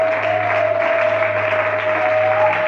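A church congregation claps to acclaim the Lord, a dense, even wash of applause filling the room for a few seconds, with a steady held tone sounding underneath.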